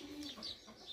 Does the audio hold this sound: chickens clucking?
yes